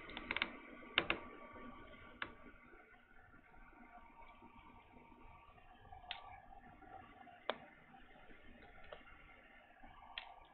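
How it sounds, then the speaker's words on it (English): Small T6 screwdriver backing out logic board screws on a MacBook, giving faint close ticks and a few sharp metallic clicks over a quiet background. "I'm using a T6 to take out the board screws on this"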